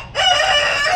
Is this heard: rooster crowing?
yes